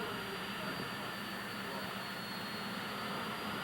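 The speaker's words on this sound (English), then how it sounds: "an exhibition involving the jet cars, and the noise is absolutely incredible here" A loud, steady roar of jet-powered drag cars at the 1984 IHRA Summer Nationals in Cincinnati, Ohio, fills the whole clip, a continuous broadband rush with no breaks, heard from close range.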